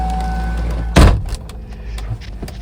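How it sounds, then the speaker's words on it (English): A heavy door on an old car with 148,000 miles slams shut once, a loud close thud over a low engine idle that continues faintly afterward. "All right, let me get in here and shut this door"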